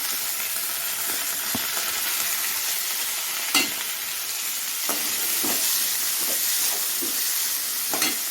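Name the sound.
sautéing carrots and vegetables in a pan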